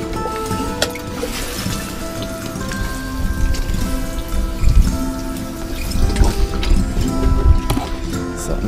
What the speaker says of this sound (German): Da kommt auch noch ein kleiner Schuss Wasser.